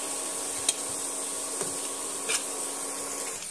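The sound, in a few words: dried red chillies frying with onion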